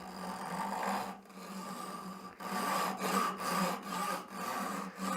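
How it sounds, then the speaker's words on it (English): Japanese back saw with very fine teeth cutting into a wooden hammer handle, a series of close rasping push-pull strokes with brief pauses between them, fairly quiet and rhythmic. "Actually, I'm going to use my Japanese back saw here."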